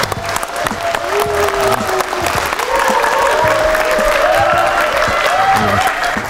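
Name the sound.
applause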